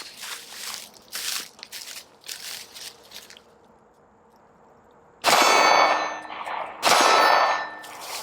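A Steiner MPS German-made enclosed red dot optic is dropped onto metal, producing a run of sharp clanging impacts, then two loud, ringing metallic strikes near the end, with quiet gaps between.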